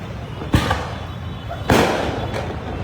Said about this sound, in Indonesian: petasan terus ditembakkan dari kerumunan massa menuju ke arah aparat kepolisian